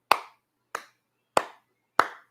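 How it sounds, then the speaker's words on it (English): Four sharp, separate hand claps from one person, evenly spaced about two-thirds of a second apart, close and crisp with short decays and silence between. "You clap for them"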